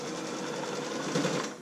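A sewing machine stitches steadily over a fabric tab on a Christmas stocking, a continuous close whirring drone lasting the whole moment with no talk.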